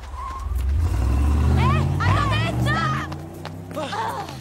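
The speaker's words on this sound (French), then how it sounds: "c'est bien la voiture de Tim qui vient de partir" Tim's green car pulls away nearby with a low engine rumble that swells and then eases off, while people talk over it.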